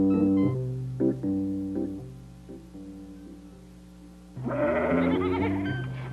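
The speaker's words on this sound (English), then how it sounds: "the nanny goat" A nanny goat bleats several times in short wavering calls, followed by a longer, louder quavering bleat near the end.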